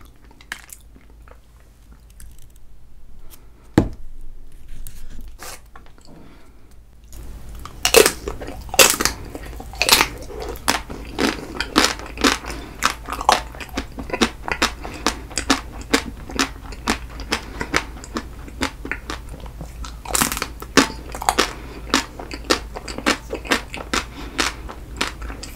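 Someone eats a Magnum chocolate ice cream bar up close. A single bite comes early, then a steady run of crackling crunches as the chocolate shell breaks, with wet chewing between the bites and no talking.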